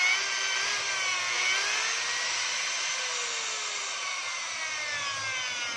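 A DeWalt DWP849X polisher with a worn gear and shaft runs steadily, a loud continuous motor whine with a faint wavering pitch, close and alone.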